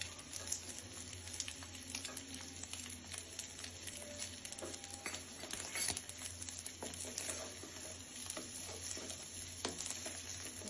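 Rice and fried garam masala are turned in a pan for navaratna biryani, giving a continuous quiet sizzle with irregular scraping and patter from stirring, and no voices.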